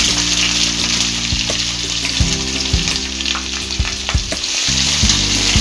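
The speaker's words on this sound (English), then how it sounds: "the onion should be fried nicely" Steady, loud sizzling of onions frying in hot ghee for mushroom biryani, with occasional stirring clinks and scrapes, close up and without voices.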